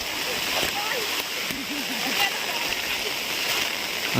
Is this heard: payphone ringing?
no